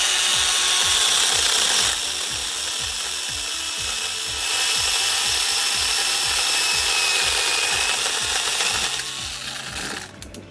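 A handheld power cutting tool trims overgrown backyard growth, running loud and steady with a rapid rasping, sawing buzz and rhythmic cutting pulses that ease slightly toward the end.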